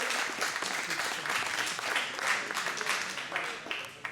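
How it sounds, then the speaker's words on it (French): Theatre audience at an amateur evening show bursts into dense, steady applause, close and full for the whole stretch, with a few voices faintly mixed in. "Ah, faut l'applaudir. Applaudissez-le."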